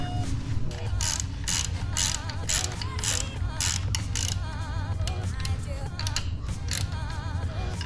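A ratchet tool tightens the carbon fiber heel guards on a Ducati Panigale V2 motorcycle, giving steady, continuous mechanical clicking at close range with no pauses.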